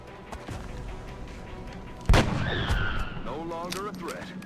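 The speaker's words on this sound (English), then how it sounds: "let's headshot, probably gonna miss" A single loud gunshot rings out in XCOM: Enemy Within, aimed at an alien, with a sharp broadband crack and a booming tail, followed by rising electronic game tones.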